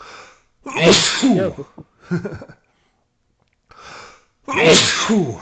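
Several sharp human sneezes come in bursts, two loud ones framing the stretch with quieter breathy sneezes between, close to the mic, with a pause of near silence in the middle and a brief spoken word.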